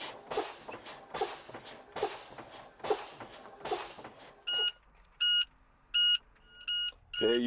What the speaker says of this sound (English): you can hear the audible alarm